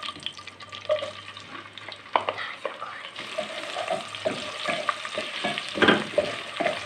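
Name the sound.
finely chopped onion frying and being stirred for pulao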